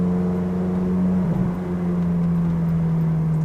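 A BMW M3 engine drones steadily while cruising at about 50 km/h, a loud, constant low hum with a brief bump in the middle and no talking.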